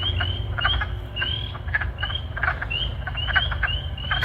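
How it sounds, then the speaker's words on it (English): Spring peeper frogs call at night in a backyard wetland with a chorus of short, repeated high peeps. Several overlapping calls ring out in quick succession over a low, steady background. "The high-pitched peeping noise is likely coming from our spring peepers"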